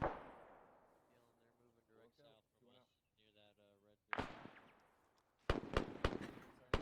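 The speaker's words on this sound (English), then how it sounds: "Shots to our south now" Gunfire in ARMA 3 during a squad training fight near a castle compound, a few sharp distant cracks with echoing tails and then a cluster of louder shots, after a stretch of quiet radio-like talk.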